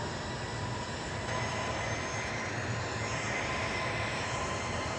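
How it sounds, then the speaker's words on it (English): A United Airlines Airbus A320 in the Infinite Flight game rolls down the runway for takeoff at Washington Dulles, a steady loud broadband engine roar holding without a break and no voices. "See if he has a good takeoff."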